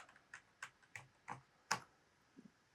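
Keystrokes typing a new password on a computer keyboard, about six separate clicks spaced irregularly, fairly close and clear against a quiet background with no talk.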